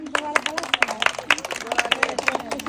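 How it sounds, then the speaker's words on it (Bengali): Crowd clapping hands in quick, uneven bursts, fairly close and steady throughout, with a voice speaking over the claps. "জোরে হাততালি হয়ে যাক"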